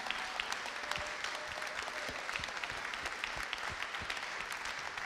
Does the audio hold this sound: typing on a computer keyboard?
no